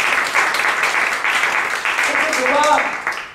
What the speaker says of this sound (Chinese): Amen，用掌声献给耶稣啊！